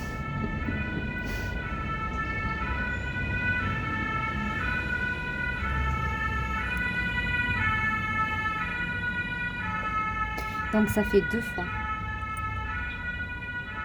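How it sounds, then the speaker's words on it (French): Fire engine siren sounding continuously in a regular alternating two-tone pattern at moderate distance over street traffic noise, with a brief spoken remark partway through. "2 fois que les pompiers sont passés. Avec l'alarme."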